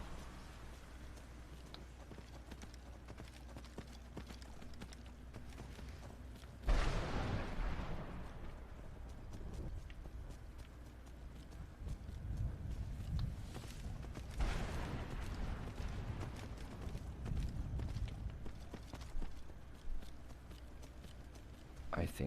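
A horse's hooves gallop across terrain in the video game Skyrim, a fairly loud rhythmic drumming that rises around the middle and returns later, layered over steady game ambience.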